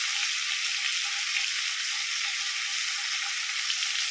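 Prawns sizzle in a pan, a steady, even crackle of frying oil that holds unbroken throughout, close and fairly quiet, with no voices.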